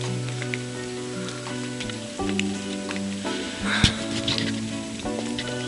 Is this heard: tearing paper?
no